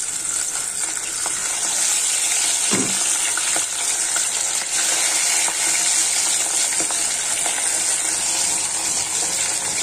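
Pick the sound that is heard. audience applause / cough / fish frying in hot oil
fish frying in hot oil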